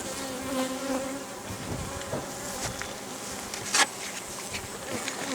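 A dense, steady drone of many honeybees buzzing together at an open hive, continuous and close, with a brief louder rustle partway through.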